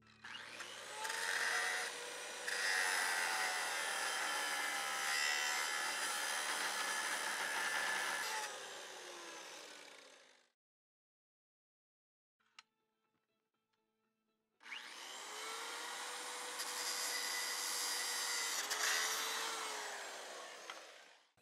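A power tool cutting metal cable anchors off a tower deck whines steadily with a harsh, gritty cutting noise for several seconds, goes silent with a faint click, then starts cutting again.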